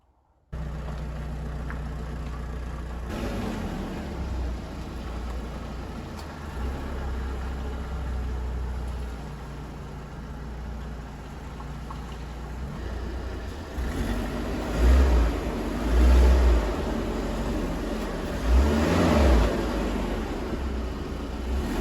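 Audi A4 B5 engine idling and moving slowly as the car turns and drives up onto wooden boards, a steady low engine rumble throughout with a few heavier thumps and revs near the end.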